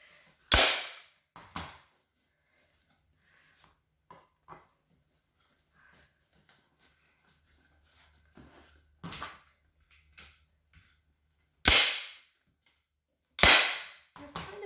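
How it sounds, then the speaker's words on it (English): A staple gun driving staples through fabric into a footstool being reupholstered, giving a few sharp, loud snapping shots spaced seconds apart, with faint handling noises and quiet gaps between them. "And then we'll put some staples."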